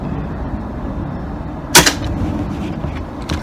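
A single sharp rifle gunshot fired at a zero test card outdoors, standing out against steady background noise, with a softer report following it and another faint shot near the end.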